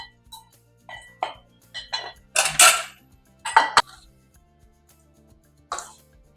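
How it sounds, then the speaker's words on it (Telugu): A spoon scrapes and clinks against a pot as tempering is mixed into cooked rice for lemon rice, giving scattered metallic knocks and scrapes with quiet gaps between them. "ఇప్పుడు మనము అన్నంలో కలుపుకుందాం ఈ తాలింపుని."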